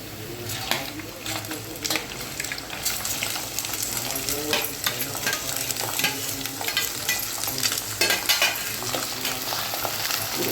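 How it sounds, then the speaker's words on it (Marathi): Mutton frying in a pan for a spicy chilli dish, a steady close sizzle with repeated scraping stir strokes throughout, with no talk over it. "अशा कलरचे भाजून घ्यायचे मग त्याच्यामध्ये मटण टाकायचं"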